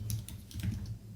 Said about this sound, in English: So just type the property